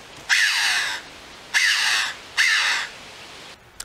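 Red-billed choughs, unusual crows of the corvid family kept at a wildlife park, give three loud, harsh, drawn-out calls close by, spaced roughly a second apart, with no talking over them.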